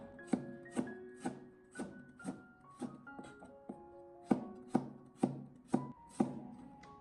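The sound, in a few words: slicing peeled ginger with a knife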